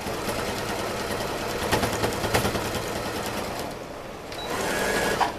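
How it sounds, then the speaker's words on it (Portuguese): A sewing machine runs steadily as it stitches a seam along a marked line on fabric for a pouch, then stops briefly and starts again with a short backstitch at the end, close and continuous. "eu vou passar a costura bem em cima da marquinha que eu fiz"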